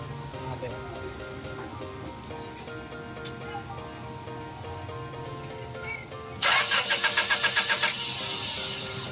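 Honda Civic VTEC engine, which won't start after an engine wash, cranking with a rapid rhythmic churn for about two seconds near the end. Before that there is a steady background hum, and people talk nearby.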